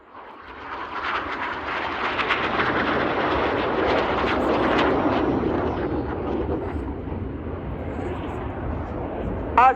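Red Arrows Synchro pair jets roaring through a hard turn at the Royal International Air Tattoo display, a broad sustained jet rumble that swells and holds steady, with a commentator's voice faintly underneath.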